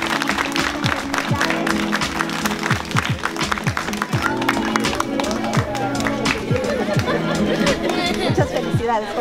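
Clapping and cheering at a civil wedding, right after the couple kiss and embrace: a crowd of guests claps and chatters in a lively, continuous stretch, with voices calling out over the applause.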